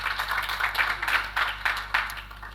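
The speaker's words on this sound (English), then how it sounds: "A round of applause for yourselves." Audience applause at the SASSETA annual general meeting, a steady patter of many hands clapping in a hall, moderately loud, with a few sharper bursts of claps.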